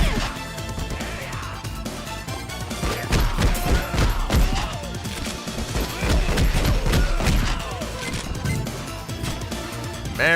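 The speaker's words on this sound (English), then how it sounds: "Rocket launcher, dude." A rocket launcher fires in the video game Remnant 2 amid heavy combat, with loud booming blasts and crashing impacts over a constant busy wash of battle noise and clatter.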